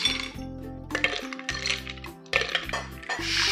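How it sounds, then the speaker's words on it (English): Ice cubes dropped into a glass for a margarita, several bright clinks and rattles in quick succession, close up, over a steady low background hum. "Some ice in our glass."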